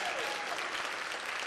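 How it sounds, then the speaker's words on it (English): Brief, dense applause from a school parent-teacher gathering for students, an even wash of clapping at moderate volume with no break. "if everybody could give them a big round of applause for their contribution."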